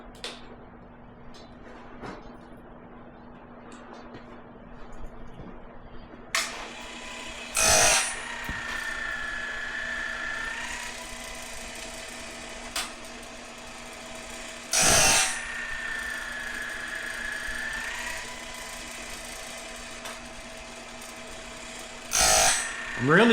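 A Woodland Mills automatic bandsaw blade sharpener runs on battery power, a steady mechanical hum with a whining grind that swells and fades in cycles, punctuated by a few sharp clacks roughly every seven seconds.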